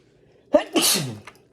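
A single sharp sneeze, close and loud: a brief inhaled catch followed by an explosive burst of breath, then a faint trailing sound.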